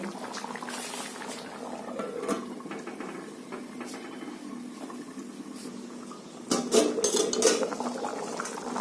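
Chicken curry with potatoes, thickened with mawa, simmers in a covered pot on full gas, giving a steady bubbling and boiling hiss with faint clinks of the pot, growing louder and busier toward the end.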